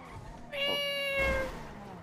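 A cat in a video game lets out one drawn-out, shrill yowl as a car runs it over. The cry is clear and fairly close, rising and then fading over about a second.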